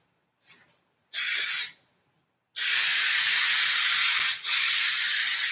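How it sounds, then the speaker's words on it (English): Spray adhesive hisses from a can onto a Honda Prelude car headliner: a short burst, a brief pause, then a long steady spray with a momentary break, close and loud. "It's nice that I can actually see where I'm like spraying now."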